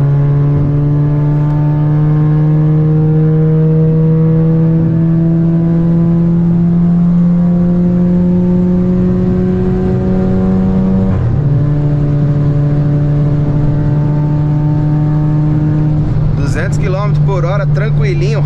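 Remapped Volkswagen Jetta 1.4 TSI engine pulling hard from inside the car, a steady rising drone that climbs, drops at a gear change and climbs again, with crackling pops near the end.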